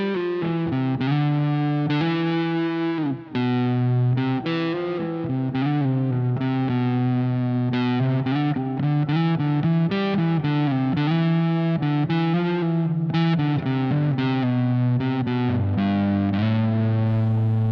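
An electric guitar runs through an RHPF Elec Mosphoros fuzz-overdrive pedal with the guitar volume rolled low, strumming chords and single notes continuously at a lightly gritty, steady level.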